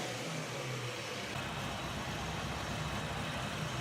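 A Nissan 240SX S13 with an RB30DET engine runs on a dyno, giving a continuous, dense, loud engine roar with no break and no talk.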